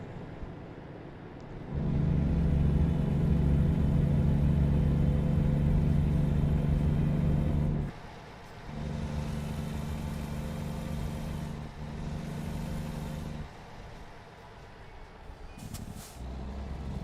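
Modded truck engine in American Trucking Simulator, a loud steady diesel rumble that drops away, returns, then fades, with a brief hiss near the end and no talking.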